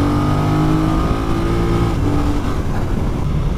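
BMW F900R twin-cylinder motorcycle engine pulling hard under acceleration, a loud, close, continuous rising drone with no speech over it.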